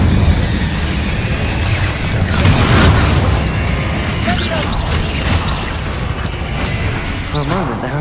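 Incendio fire spell cast in the Hogwarts Legacy video game: a loud, dense whoosh and booming burst of flame over a constant roar of game effects, with a swell near the middle and scattered crackling pops.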